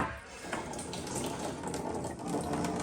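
Water trickling from a hose fed by a well pump in a backup water system, a soft continuous splashing and gurgle, fairly faint and steady with no voices.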